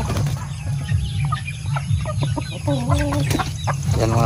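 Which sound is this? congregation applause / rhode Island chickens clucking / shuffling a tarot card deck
rhode Island chickens clucking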